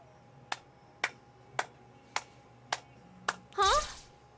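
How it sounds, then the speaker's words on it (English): Six slow, evenly spaced claps ring out against a quiet backdrop in the video game Persona 4: Dancing All Night, followed by a brief burst of muffled voice or movement. "I hear a slow clapping from the room's entrance."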